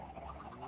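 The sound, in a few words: chickens in a video game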